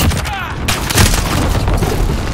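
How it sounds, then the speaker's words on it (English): Heavy airstrike explosions boom over a Call of Duty Modern Warfare battlefield, a loud close rumbling thud amid gunfire and battle noise, with voices over it. "Allied precision airstrike incoming."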